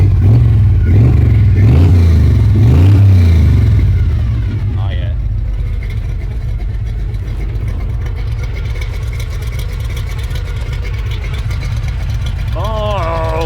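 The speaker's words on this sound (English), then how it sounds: "You can hear my gear drive all going all crazy and stuff" A truck engine with a new exhaust and muffler revs hard, then settles into a loud, steady drone, with a whining gear drive running underneath; someone talks over it early on.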